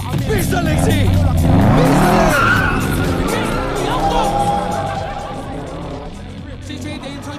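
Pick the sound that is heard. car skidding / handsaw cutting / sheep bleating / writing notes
car skidding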